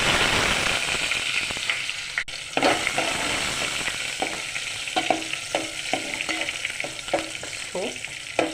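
Garlic frying in oil in a pan for a tomato curry, a steady loud sizzle with crackling pops and intermittent sharp spatters throughout, no talking.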